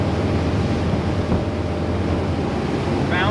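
Engine of a 1999 Formula 280 Sun Sport boat running on the water, a steady low rumble blended with rushing water and wind noise, continuous and close.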